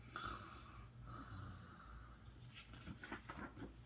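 A voice imitates snoring with a few faint, drawn-out snorts and wheezy breaths at a slow, uneven rhythm.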